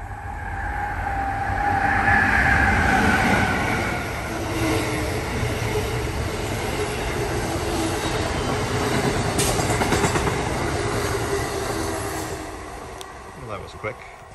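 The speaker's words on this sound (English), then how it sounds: "Here comes a train, so we're gonna pause for a second." A train rumbles past nearby, a rising roar with rhythmic rail clatter and a faint high squeal, swelling then fading away toward the end.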